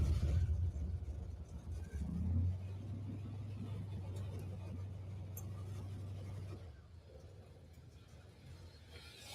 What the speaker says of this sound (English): Okay, the car's running.